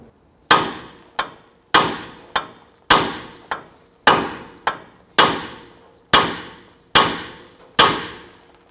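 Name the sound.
hammer striking steering knuckle to release tie rod end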